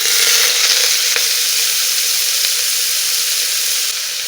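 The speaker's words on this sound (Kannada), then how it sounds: "ಕುಕ್ಕರ್ ಹಾಕ್ಕೊಂಡು ಸ್ವಲ್ಪ ತರಕಾರಿ ಫ್ರೈ ಮಾಡ್ಕೊಳ್ಳೋಣ." Chopped vegetables fry in a little oil inside a pressure cooker over a low flame, giving a steady, loud close sizzle that holds evenly throughout with a few faint clicks and no talking.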